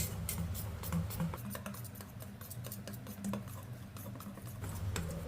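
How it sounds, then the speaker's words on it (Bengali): Gram flour (besan) batter for dhokla being whisked in a bowl: quiet, quick, continuous ticking and patting strokes against the bowl, close and steady throughout. "এবারে আমি বেসনটাকে ভালো করে ফেটিয়ে নেব"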